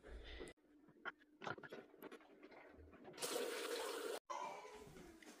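Shower water runs steadily as a cat drinks from it, a broad rushing spray that turns louder and fuller partway through, briefly cuts out, then resumes, with soft household clatter earlier on.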